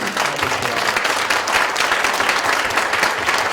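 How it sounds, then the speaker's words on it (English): Steady, dense audience applause at a Five Wings Arts Council event honoring the Great River Arts Center board, loud and even throughout with no talk over it. "A big round of applause"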